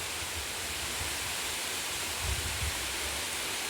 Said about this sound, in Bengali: ছাঙ্গি ওয়াটারফল পেলিং।